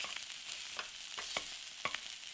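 Samosa filling with cilantro and garam masala stirred in a pan: a low sizzle broken by several distinct spoon scrapes and taps at irregular intervals, close by and fairly quiet, with no talk.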